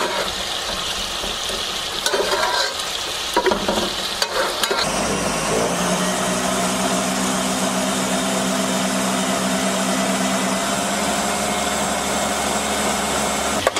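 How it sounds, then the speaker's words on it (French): A blender whirs through boiled eggplant and tomato, starting with rough, uneven churning and clatter before settling into a steady, loud motor drone with a low hum. "Et je vais blender ça."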